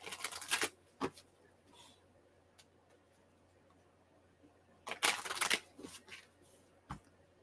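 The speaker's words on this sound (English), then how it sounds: "One more shuffle for Jennifer." Tarot cards are shuffled in two quick riffling bursts, one at the start and a longer one later, with scattered single clicks between in a quiet room.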